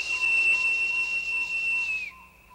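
A high, steady whistle from a cartoon, sounding from afar: one sustained tone with a faint buzzy overlay lasts about two seconds, then cuts off and leaves a quieter lingering tone.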